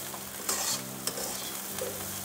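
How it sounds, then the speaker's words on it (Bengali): Rice and lentils fry in a pan for Bengali-style khichuri, with soft stirring scrapes, a quiet steady sizzle and a few sharper crackles. No one talks. "চাল ফুটফুট করে ফুটছে"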